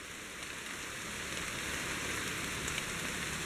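Steady tropical rain falls on Bohol in the Philippines beside rice paddies and trees, a dense, even hiss that continues unbroken without speech.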